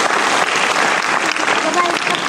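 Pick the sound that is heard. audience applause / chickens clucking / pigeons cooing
audience applause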